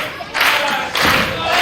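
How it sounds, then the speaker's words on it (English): Wrestling arena crowd roaring and cheering in loud bursts, two big surges of noise close together, with chants rising over the roar. "Look at this crowd getting behind him again."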